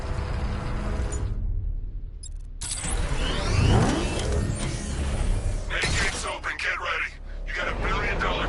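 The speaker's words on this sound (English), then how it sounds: "Time to bring in the car." The Batmobile arriving in Batman Arkham Knight, a loud mechanical engine roar and revving whoosh sweeping in after a brief gap, with heavy clanks and rumble continuing beneath game dialogue.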